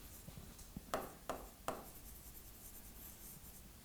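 Marker or chalk writing on a board during a physics lecture on light, a few quick soft strokes and squeaks in a quiet room, fairly faint.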